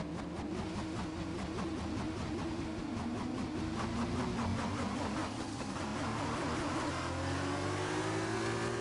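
In a Formula racing video game, a racing car engine drones steadily at a constant level and revs up in a rising pitch toward the end, with no other sounds over it.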